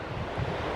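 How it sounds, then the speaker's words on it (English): Water rushes below a trail leading to Banias Falls in northern Israel, a broad steady roar mixed with wind buffeting the microphone, heard in a brief burst without speech. "You may hear something down there. It is not the falls, but that shows that there is water."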